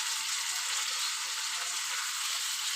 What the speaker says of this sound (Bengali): তার জন্য আমি এখন লাস্টে চিংড়ি মাছটা দিই